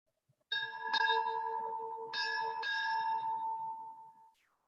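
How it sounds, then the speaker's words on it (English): A ship's bell aboard USS Constitution rings four strokes in two close pairs, bright and clear, each ring sustaining and overlapping before fading out in a quiet ceremonial setting. "Strike 4 bells."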